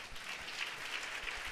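A congregation at a church service applauds. The clapping blends into a faint, even wash of sound that holds steady through the brief moment.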